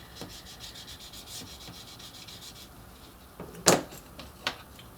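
Paper being burnished down onto a chipboard castle tower, a soft steady rubbing and scraping that carries on quietly, then two sharper brisk strokes near the end, close and alone with no talk.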